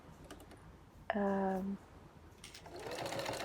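A home sewing machine stitches thick fabric layers with a 5/8-inch seam allowance, making a single short, steady motor whir of well under a second, set among quieter handling sounds and a voice talking.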